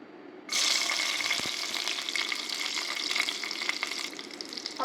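Slit green chillies dropped into hot mustard oil burst into a sudden loud sizzle that holds steady and crackling, close up, with no talking.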